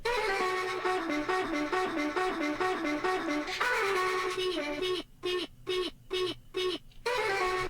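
Vocal sample transposed up five semitones, run through auto shift, a thermal preset and compression, plays as a rhythmic pitched phrase, then chops into a stuttering gated pattern before resuming, alone and fairly loud.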